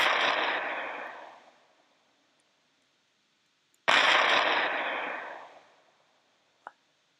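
Two broad booming blasts, each with a sharp onset and a long rumbling decay, separated by near silence, followed by a brief faint click.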